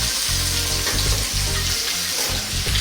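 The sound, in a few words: pandan leaves, curry leaves, onion, ginger garlic sizzling in pan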